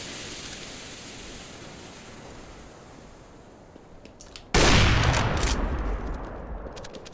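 A smoke grenade goes off in the video game Counter-Strike: Global Offensive, a sudden loud, broad hissing burst that swells from quiet ambience and keeps rushing steadily for several seconds.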